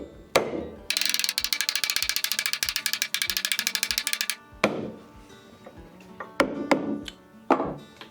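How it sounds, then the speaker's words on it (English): Power driver running screws through a wooden deck joist into a blocking piece, a loud rapid impact rattle lasting several seconds, followed by sharp knocks and short bursts of driving. "screw through the joist into the end of"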